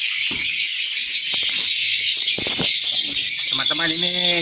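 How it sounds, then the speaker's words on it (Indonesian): Swiftlets fly and chirp inside the third floor of a swiftlet house. Dense, continuous high twittering fills the space with flutters of wings, and someone talks over it. "Ini ada burung ya terbang ya. Ini ada burung terbang."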